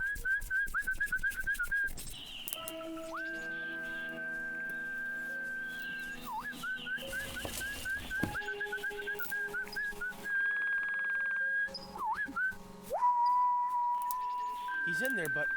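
A person whistles a bright, wavering tune in short phrases, over a quiet backdrop of sustained tones and occasional knocks.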